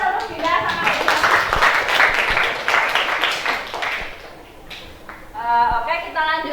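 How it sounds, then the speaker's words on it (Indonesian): A classroom of students claps for two classmates during a history lesson, a dense burst of clapping for about four seconds before it fades and a teacher's voice takes over. "Tepuk tangan untuk Dinda sama Hediana."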